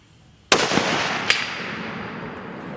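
A single sharp, loud rifle shot from a Browning X-Bolt Speed Long-range in 300 WSM, followed a moment later by a faint ring from a distant steel target and a long outdoor echo.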